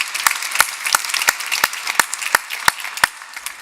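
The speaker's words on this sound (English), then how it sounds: "So we got just a quick round of applause for Vikas would be great." A conference audience gives a round of applause, heard as a steady patter of clapping with a few louder, evenly spaced sharp claps standing out close by.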